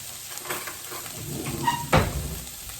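Onion sizzles gently in a pan while cooking chicken and roasted tomato linguine, a faint crackle with a few light clinks and one louder knock near the end.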